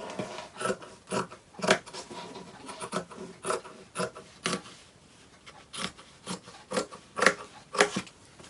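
Scissors snip through denim fabric in a steady series of close, raspy cuts with short pauses between strokes, no voices present.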